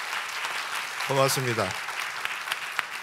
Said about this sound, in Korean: 여러분 박수 한번 더 쳐주셨으면 고맙겠습니다.